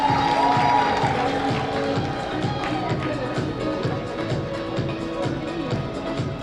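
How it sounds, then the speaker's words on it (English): An audience at an African students' graduation ceremony claps steadily in a sustained round of applause with scattered cheers, moderately loud and even throughout. "Ladies and gentlemen, can we have a huge round of applause?"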